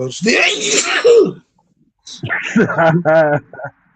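A single sharp sneeze bursts out, followed after a brief pause by a short stretch of close talking.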